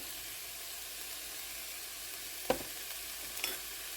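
Sliced onions cook in a pan with salt for beef cutlet, giving a soft, continuous sizzle with a couple of brief clinks from stirring partway through.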